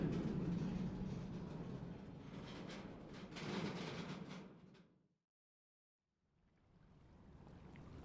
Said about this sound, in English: let's take a little break while this fucking train rumbles by